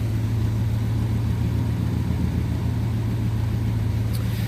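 A car engine with EFI settling to an idle around 850 RPM, a steady low droning hum with even rhythm, close and alone.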